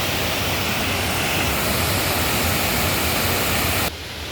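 A waterfall beside Dhutpapeshwar temple in Rajapur, Konkan, roars as a loud, steady broadband rush that runs unbroken, dropping slightly in level near the end.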